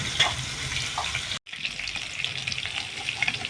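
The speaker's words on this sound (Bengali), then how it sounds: "তাহলে ফুলকপিটা লাল লাল করে ভেজে নিই" Cauliflower florets frying in hot oil in a pan, a close, steady crackling sizzle, briefly cut off by a short gap before continuing.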